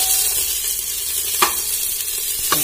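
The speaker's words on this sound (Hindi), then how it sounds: "थोड़ा सा प्याज को भी भून ले देंगे" Onions fry in a pan while khichdi is cooked in a lodge room, a steady sizzle marked by two brief spatula scrapes.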